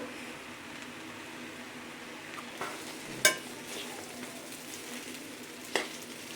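Chicken noodles with chilli sauce being stirred in a hot pan, a soft steady sizzle with a few sharp utensil scrapes and clicks against the pan, quiet and close.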